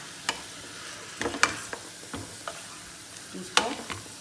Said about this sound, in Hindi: ये चिकन को मैंने 5-7 मिनट भून लिया है। फिर इसमें हमने लहसुन अदरक की पेस्ट डाल देनी है।